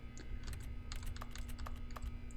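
Rapid keyboard-like clacks from the interaction button in The Stanley Parable Ultra Deluxe, a dense, irregular run of close typing taps over a low steady hum, with no voices.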